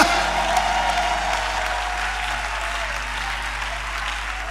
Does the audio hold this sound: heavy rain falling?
no